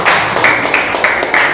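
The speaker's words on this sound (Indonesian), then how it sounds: "Tepuk tangan untuk semuanya ya." Classroom clapping, a loud close group clapping in a brisk patterned rhythm with repeated accented bursts over about a second and a half.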